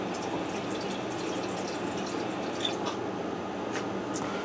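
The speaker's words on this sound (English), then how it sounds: "Now I'm going to add a little bit of water in there" Water trickles and drips into a pot of hamburger vegetable soup, a soft, steady splashing pour with a few brighter drip sounds, moderately quiet and without talking.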